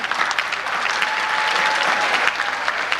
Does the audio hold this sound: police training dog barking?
no